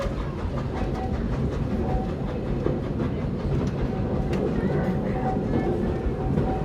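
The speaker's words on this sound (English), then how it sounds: "Still love the train ride." A Magic Kingdom theme park train ride rumbling steadily along the track with a faint rhythmic clatter, continuous and fairly close, with occasional voices in the background.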